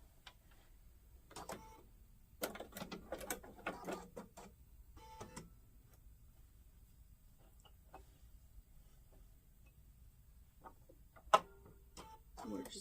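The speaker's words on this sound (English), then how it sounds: "We're just going to get our needle on that line there and sew that second line." A sewing machine stitches a half square triangle quilt block, heard as quiet bursts of rapid mechanical whirring and ticking separated by near-silent pauses, with one sharp click late on.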